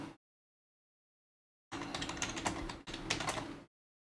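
Rapid typing on a computer keyboard clatters in two close bursts of dense key clicks, separated by a brief break and preceded by silence.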